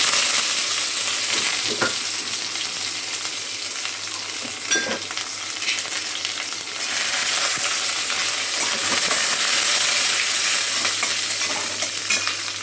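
Cumin, mustard seeds, garlic and curry leaves sizzle and crackle steadily in hot oil for a Marathi tempering, a continuous close frying hiss with scattered pops and a brief stir partway through, with no talking.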